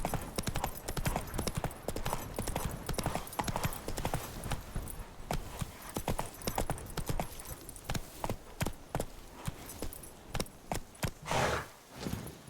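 Roach, the horse in The Witcher 3: Blood and Wine, trots with a steady clip-clop of hooves, dense rhythmic hoofbeats close up that slow and thin toward the end, with a brief snort near the finish.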